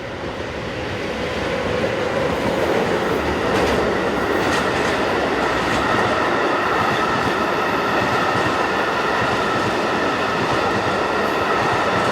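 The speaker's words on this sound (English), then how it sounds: "Heading south towards the camera is 2818 on a very lightly loaded intermodal." Locomotive 2818 approaches hauling a lightly loaded intermodal freight train, a loud, continuous rumble of wheels and cars with rhythmic clatter and faint squeal, rolling steadily close past.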